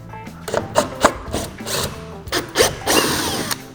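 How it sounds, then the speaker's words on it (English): A 3/8 inch drill bit bores through material while fitting a motorization kit, the drill whirring in uneven bursts with grinding, ratcheting bites and short pauses between pushes, close and fairly loud. "Now I'm going to come back with a 3/8 inch drill bit."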